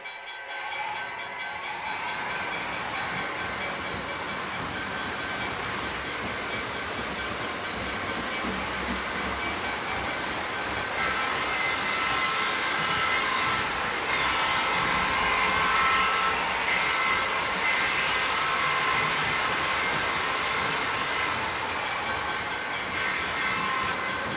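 A model Conrail train runs on a layout, producing a steady, fairly quiet mechanical rumble and whir that continues throughout with slight variations, mostly alone with little or no talk.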